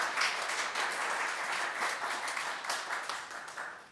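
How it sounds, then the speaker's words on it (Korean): A church congregation at a Sunday service claps in welcome for a young man home on his first leave from military service, giving sustained, dense applause that fills the room steadily for several seconds. "잠깐 자리에 일어서 주시면 환영의 박수로 맞이하겠습니다."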